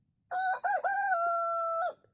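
A rooster crows once, loud and close, with a stuttering start that settles into a long sustained call of about one and a half seconds before cutting off sharply. No talking.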